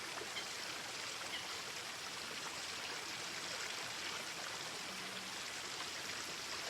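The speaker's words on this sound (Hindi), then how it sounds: "अब पानी आ गया है, सब खुश हो जाएंगे।" A stream of water flows steadily and continuously, a broadband rushing and trickling wash that stays even throughout with no voices.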